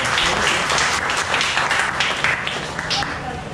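A church congregation applauds the Caritas volunteers after Mass. The clapping forms a thick, continuous wash with voices talking over it throughout.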